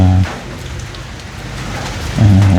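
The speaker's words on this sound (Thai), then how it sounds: "แต่ฝนตกลาย" Heavy rain pours down in a steady, dense roar, with a low rumbling hum that swells at the beginning and end.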